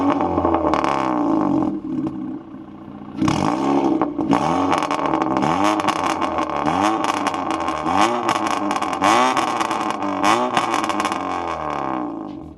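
A modified Honda Brio with a Shokudo dual mid-exit exhaust revs hard, close up. Repeated sharp throttle blips rise and fall in quick succession, broken by a brief lull, with no voices.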